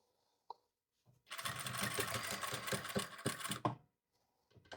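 A sewing machine runs in one continuous, steady burst lasting about two and a half seconds, stitching a lapel-like pocket flap on a Sophie dress, with brief quiet before and after.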